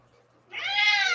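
An orange cat gives a single loud, close meow that rises and sustains for about a second after a quiet start.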